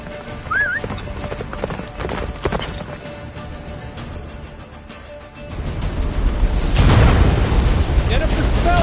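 Hooves of Roach, Geralt's horse in The Witcher 3, galloping with rapid clip-clop beats amid game noise and a louder rumbling burst near the end, with a voice speaking over it.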